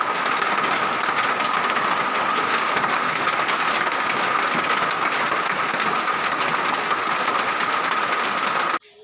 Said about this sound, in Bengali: শিলাবৃষ্টির মানে পাথর পড়ার আওয়াজটা এত জোরে জোরে হচ্ছে